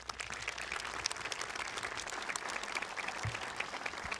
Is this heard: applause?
yes